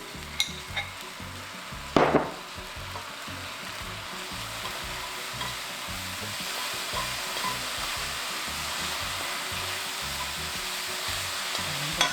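Small dried anchovies stir-fried with syrup in a pan give a steady sizzle and stirring scrape throughout, with one brief louder clatter near the start and no talking.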